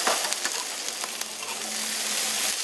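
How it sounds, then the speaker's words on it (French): Plantain bananas frying in a deep fryer, a dense, steady hiss of bubbling oil with scattered crackles and pops, close and continuous throughout. "Je vais mettre à la friteuse. Et ça va être les bananes plantains en accompagnement aujourd'hui."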